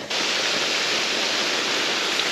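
A loud, constant rushing roar from a nearby waterfall at a bush camp, dense and unvarying, with no voices heard.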